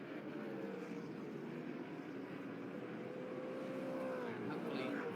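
Muscle race cars pull away at the start of a staggered group race at Hampton Downs, engines droning steadily in the distance beneath a commentator's voice.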